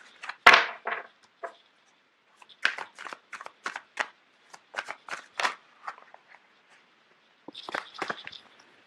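Tarot cards being shuffled by hand, with irregular bursts of crisp riffling and slapping, and several loose cards flicking out and dropping, close and fairly loud with short pauses between bursts.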